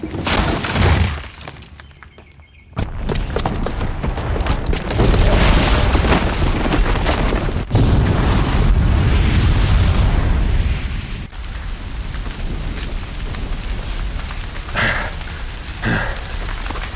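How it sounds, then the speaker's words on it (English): Booby-trapped bomb going off in the action game Horizon Zero Dawn, a sustained roaring blast with crashing debris and shattering, loud and continuous with rumbling surges for about seventeen seconds, no talking. "the booby trap on the bomb downstairs is gonna get set off"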